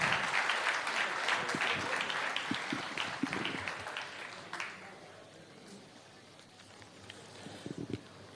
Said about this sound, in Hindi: जोरदार तालियों से स्वागत करिए यूनियन मिनिस्टर अनुराग ठाकुर जी का